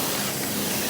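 A spray bottle mists water over vermiculite-covered potting soil, a steady, close, broadband hiss running unbroken for about a second with no voices.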